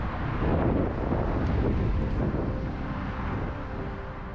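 Strong wind blows along a roadside route between Abu Dhabi and Dubai, making a loud, continuous rumbling roar that buffets the microphone, easing slightly toward the end.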